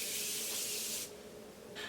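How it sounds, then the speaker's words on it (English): Morphe Prep and Set setting spray misted onto a made-up face: one long close hiss of about a second, then a brief second spritz starting near the end. "So I'm going to use the Morphe Prep and Set setting spray to do that."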